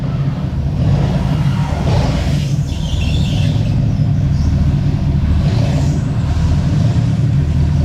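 A car strains to drive up out of a dug hole, its engine rumbling loud and close with a steady low drone and rising surges of revving throughout.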